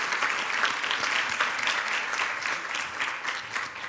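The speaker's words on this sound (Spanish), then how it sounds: "Aplauso de los presentes para Cementos Cibao" Audience applause at a Dominican Republic business awards ceremony, a steady wash of many hands clapping at moderate distance, sustained evenly for a few seconds with no voices over it.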